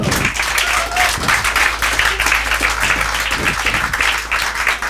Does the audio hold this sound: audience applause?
yes